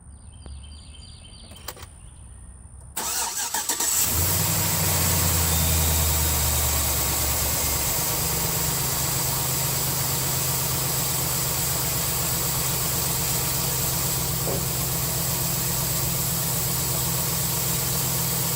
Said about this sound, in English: So I'm going to go on and start the vehicle up real quick.